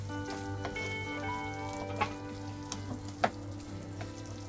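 Four eggs poured into a pan over a low flame for shakshuka settle into a soft, steady sizzle, with a few faint clinks and taps standing out, no talking.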